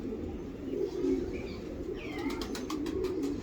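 Pigeons in a loft coo softly and steadily in low murmuring calls, joined by a few higher chirps near the end, quiet and close with no talking.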